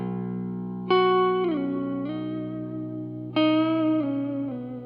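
Two sustained electric guitar chords through a JHS 3-Series Octave Reverb pedal, reverb set at noon, ring out with lush reverb, each swelling in and sliding lower, the notes blooming and lingering with a soft wash of decay.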